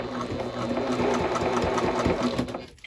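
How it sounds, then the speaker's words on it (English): A sewing machine stitches a fabric bag in a steady, loud, close mechanical whir with rapid rhythmic needle ticks, running continuously before easing off at the end. "I'm actually going to continue sewing."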